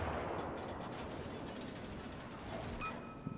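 Naval gunfire in World of Warships from an Atlanta premium cruiser, a rapid crackling burst of volleys layered over a rumbling ship-and-sea backdrop, moderately loud, ending in a sharp pop.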